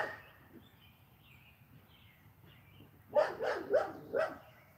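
A dog barks four times in quick succession from indoors, sharp and moderately loud after a quiet stretch with faint background chirps.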